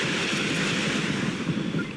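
Helicopter flight in the action video game Just Cause 3: a steady, dense engine and rotor roar that holds at constant loudness for about two seconds, with no voices.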